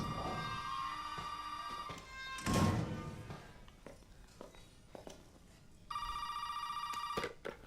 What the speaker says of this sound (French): ça t'enclenche le téléphone